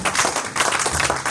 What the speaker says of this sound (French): Allez, va acclamer le Saint-Esprit.